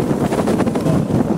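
Loud, blustery wind roars and buffets close by on the South Downs Way, a continuous gusting rush with no voices.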